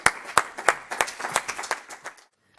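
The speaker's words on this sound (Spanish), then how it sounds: "Un aplauso, por favor." A small audience at an engineers' innovation forum gives a short burst of sparse, distinct claps, each one crisp and separate, thinning out and stopping after about two seconds.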